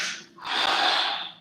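Steady breathing during a slow neck rehabilitation exercise, a breathy exhale that dips briefly then swells into a long, close, sustained airy breath.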